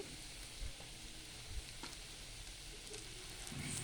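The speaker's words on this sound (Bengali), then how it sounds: "প্রথমেই পেঁয়াজ কুচিগুলোকে তেলে ভেজে নিব" Chopped onions fry in oil for chicken biryani, giving a soft, steady sizzle with faint crackles and an occasional light stir.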